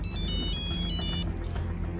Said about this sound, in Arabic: رؤوف بيه على التليفون عايزك